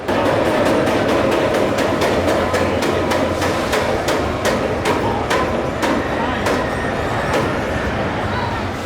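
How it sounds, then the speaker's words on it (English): Rapid, rhythmic clacking of a roller coaster train at Blackpool Pleasure Beach over a steady rumbling roar, the clicks spacing out gradually as it slows on the brakes. "So the train that's just gone over my shoulder on the brakes will be stopped at 50 foot."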